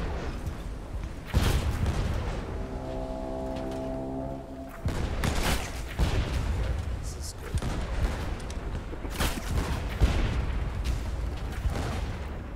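A mortar aboard a pirate ship in Blazing Sails fires with several loud booming thuds spaced across the scene, mixed with sea-battle clatter while players talk over it.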